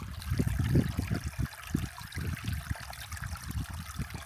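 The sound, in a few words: babbling brook, water trickling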